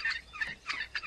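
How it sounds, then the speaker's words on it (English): Turkey-like gobbling from a bird in the virtual world Second Life, four quick warbling bursts in rapid succession, fairly close and alone. "Looks like a bird."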